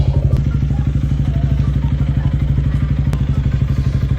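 A Yamaha Sniper 155 with a stock pipe pulls away, its single-cylinder engine putting out a steady, rapid, loud popping pulse close by.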